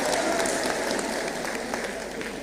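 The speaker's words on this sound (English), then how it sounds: "We also give them a clap," An audience claps at a women's initiative event held at a Catholic university, producing a sustained, fairly loud patter of many hands that holds steady and eases slightly toward the end.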